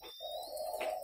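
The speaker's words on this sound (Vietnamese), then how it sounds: "nghe thì tiếng chim cu gáy" A spotted dove gives a single soft, hollow coo at close range, a steady low note held for about a second and heard alone in quiet surroundings.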